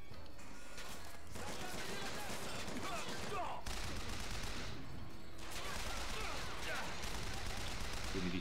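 Turret gunfire in the video game BioShock Infinite, loud rapid bursts and volleys over a chaotic game soundscape, with a player's voice talking through the shooting.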